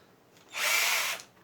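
A power drill spins up briefly to crank a rebuilt weed eater engine, giving a single loud, high whirring burst of about half a second between quiet pauses.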